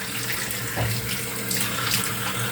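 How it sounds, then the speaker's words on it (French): Water runs steadily from a tap while a face is rinsed with a sponge, a continuous close splashing hiss with small sloshes. "Donc là, je rince avec l'éponge."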